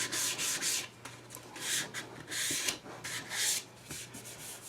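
Sandpaper rubs back and forth over a small cherry wood spice box, a steady series of close, raspy strokes with brief pauses between them.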